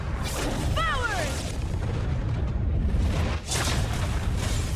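A flaming lance ultimate attack from Honkai Star Rail erupts in a dense, continuous roar of booming fire and whooshes, with a brief rising magical sweep early on and a heavy impact surge near the end.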